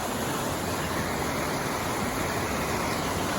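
A waterfall in the Smokies roars as a dense, steady, broadband rush of falling water, loud and unbroken, with no other sounds over it.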